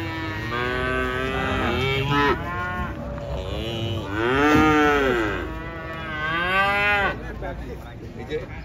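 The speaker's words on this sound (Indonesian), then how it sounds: "Sapi bocil." Young cows mooing loudly and close as they are unloaded from a truck, long overlapping bellowing calls that rise and fall continuously for the whole stretch.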